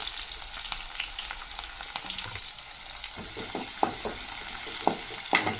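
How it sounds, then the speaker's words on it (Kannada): Green chillies frying in hot oil for a North Karnataka-style churumuri tempering, a steady close crackling sizzle with occasional stirring scrapes and a couple of sharper pops near the end. "ಎಣ್ಣೆಯಲ್ಲಿ ಚೆನ್ನಾಗಿ ಫ್ರೈ ಆದರೆ ಟೇಸ್ಟ್ ಬರುತ್ತೆ ಹಸಿಮೆಣಸು ಕರ್ಬೇವು ಸೊಪ್ಪು ಒಂದು ಹೆಸರು ಹಾಕೊಂಡ್ರೆ ಸಾಕು"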